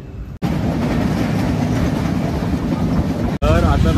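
The Aaganewadi special train rolls through Konkan with a loud, steady rumble of wheels on track inside the carriage, and a voice speaks briefly at the end.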